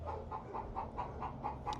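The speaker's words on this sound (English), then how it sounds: "as you can hear, my chicken just laid an egg" Backyard hen clucking after laying an egg, a steady rhythmic series of about eight faint clucks from a short distance.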